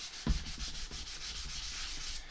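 Sandpaper is rubbed over a guitar's lacquered finish in a steady back-and-forth scrub, close and continuous, with a soft knock near the start.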